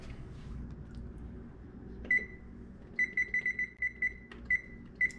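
A kitchen timer beeps during oven baking of a peach cobbler: a single beep, then a quick series of short, bright, evenly paced beeps, close and clear above a low room rumble.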